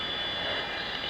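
Avro Vulcan bomber jet engines power up for takeoff, a loud, steady, close roar with a high whine.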